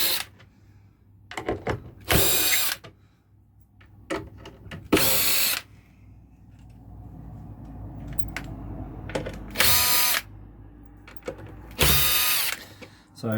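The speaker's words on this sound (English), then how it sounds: "I'm assuming we undo all these screws and the whole baffle will come out." A power screwdriver whirs in several loud, separate bursts while small screws are backed out of a Wharfedale Melton 2 speaker baffle, with faint rattling and handling noises between the runs.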